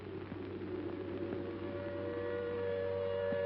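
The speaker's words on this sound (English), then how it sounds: "Then the air raid siren wails again" Civil defense air raid siren in a defeated postwar city, a steady sustained wail holding a drawn-out tone throughout, moderately loud and slightly distant with no voices.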